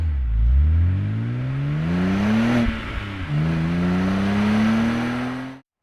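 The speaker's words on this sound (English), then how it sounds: "Cabriolet." Cabriolet car engine revving up close, rising in pitch twice with a brief dip between, ending in an abrupt cutoff.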